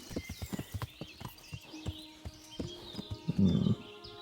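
Horse hooves clopping on a wooden bridge in the medieval video game Kingdom Come: Deliverance, a steady walking rhythm of hollow knocks over soft ambient birdsong, ending in a brief louder rumble.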